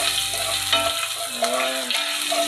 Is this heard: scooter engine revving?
no